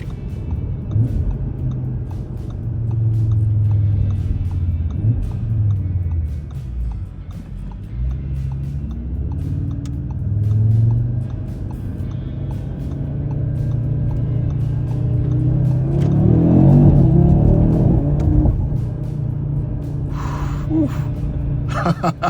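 The 2.5-litre engine of a 2025 Audi RS3 Carbon Edition, with all-wheel drive and a 7-speed dual-clutch gearbox, rumbles low and steady, then swells as it revs harder late on before settling again.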